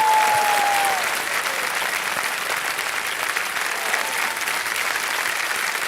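Loud, sustained applause from a large audience at a public ceremony, a thick continuous roar of clapping close by that stays even throughout, with a faint voice or tone briefly audible at the start.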